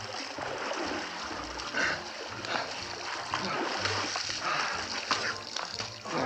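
Cold water splashes over a drunk man, a sustained wet splatter and trickle with uneven bursts, close and fairly loud throughout.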